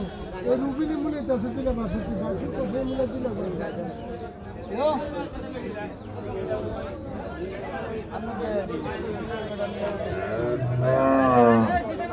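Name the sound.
cattle at a cow market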